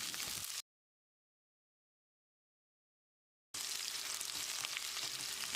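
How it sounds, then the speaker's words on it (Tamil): Onions sizzle and crackle steadily in a hot pan as they sauté, with a silent gap in the middle before the frying resumes. "வெங்காயத்தை கண்ணாடி பதத்துக்கு வதக்கிடலாம்."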